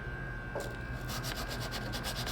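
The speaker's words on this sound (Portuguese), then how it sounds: "eu vou encaixar essa lixa aqui na lima chata e vou passar aqui dentro" Sandpaper wrapped on a flat file rubs back and forth inside a metal ring in a jewelry workshop, giving faint, quick rhythmic scraping strokes over a steady background hum.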